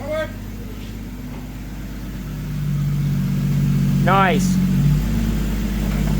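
Drift car engine idling and revving at close range, a steady low drone that swells midway, with people talking over it.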